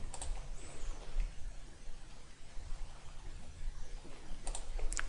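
Computer mouse clicks repeating while modeling in Autodesk Inventor CAD software, sharp faint ticks at the start and again near the end over a low steady room hum.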